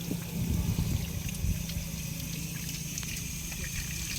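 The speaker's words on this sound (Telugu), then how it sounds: "పాత నీళ్ళు మొత్తం వెళ్ళిపోతున్నాయి." Old water flushing out of a newly fitted pipe, a steady rushing flow with a low gurgling rumble that holds evenly throughout and stays fairly close.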